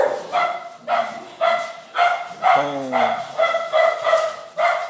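Dogs bark repeatedly at close range in a steady rhythm of about eight sharp barks, with a brief whimpering yelp in the middle.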